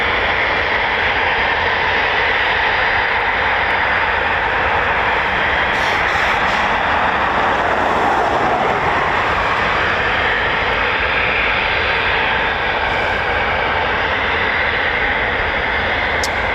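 A Eurofighter Typhoon FGR4 jet engine roars at RAF Coningsby, the quick reaction alert station, in a loud, unbroken wall of sound lasting the whole stretch with little change in level.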